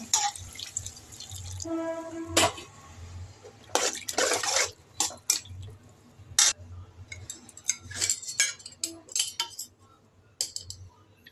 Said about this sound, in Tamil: ஒரு சொம்ப அளவு தண்ணி ஊற்றிங்க